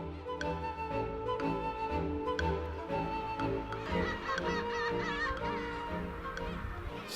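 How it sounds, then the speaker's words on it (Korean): Seagulls crying near an island village by a windy bridge, a busy, overlapping chorus of calls and squawks at close to middle distance, with some faint background voices mixed in. "근데 갈매기들은 이 울음소리가 조금 왠지 좀 구슬퍼요"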